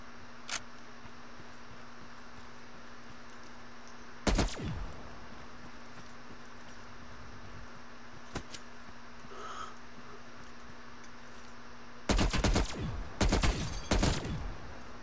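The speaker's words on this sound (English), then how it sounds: "Look, you got a sentry gun." Bursts of automated gunfire from a sentry gun in a shooter game, one short volley early, a sharp crack later, then a cluster of rapid loud bursts near the end over a steady game hum.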